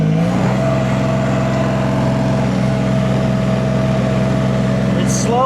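A diesel mini excavator engine runs loud and steady at raised revs, a constant close mechanical drone with a slight pitch shift at the start and a brief higher whine near the end.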